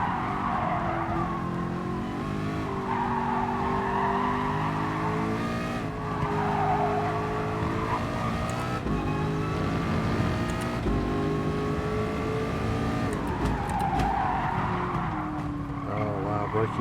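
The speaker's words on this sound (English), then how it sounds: "Oh, wow, that really caught me out there. I wasn't expecting wheel spin at that speed." Car tyres squeal and skid under wheel spin in the racing video game Gran Turismo Sport, long wavering screeches rising and falling over a constant engine drone, with someone talking over the game sound.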